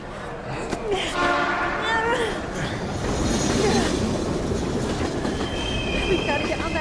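A train in the video game Heavy Rain rumbles loudly and close, with wheels squealing and screeching in high tones over the heavy rolling clatter. The sound is continuous, and voices are mixed in under the noise.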